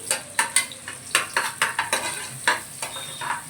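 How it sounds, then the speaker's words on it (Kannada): Chopped onions sizzle in hot oil inside a pressure cooker, with rhythmic stirring clinks and scrapes of a utensil against the metal pot, close and clear. "ಕುಕ್ಕರ್ ಇಟ್ಕೊಂಡು ಎಣ್ಣೆ ಹಾಕ್ಕೊಂಡಿದ್ದೀನಿ ಎಷ್ಟು ಸ್ವಲ್ಪ ಈರುಳ್ಳಿ ಕಟ್ ಮಾಡ್ಕೊಂಡಿರೋದನ್ನ ಹಾಕ್ತಾ ಇದ್ದೀನಿ"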